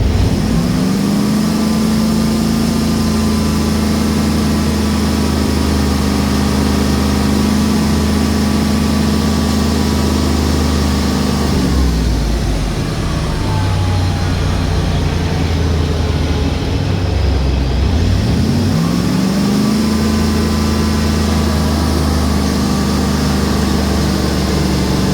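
A 2001 GMC Yukon engine, prone to not staying running, idles loudly and close, a steady low rumble that sags and wavers twice as the idle drops before recovering.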